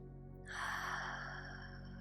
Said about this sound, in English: take another deep breath through your nose and out through your mouth